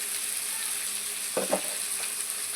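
Chicken and gongura fry in a pan with a steady, quiet sizzle, and two or three soft stirring scrapes sound briefly partway through.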